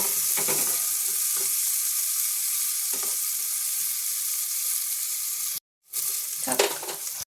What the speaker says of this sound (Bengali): এবার এই কড়াইয়ের সাথেই লঙ্কাগুলো একটু নাড়াচাড়া করে নেব